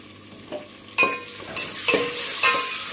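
Cashews and ginger-garlic paste stirred into onions in a frying pan for kushka rice, a steady sizzle under a few sharp spoon scrapes and clinks against the pan.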